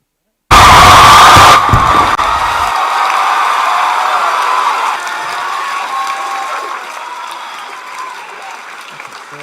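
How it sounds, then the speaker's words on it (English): Loud applause from an audience at a live launch event for a digital trade finance protocol bursts in sharply, then carries on as steady clapping with a few cheers, slowly easing off. "Another round of applause."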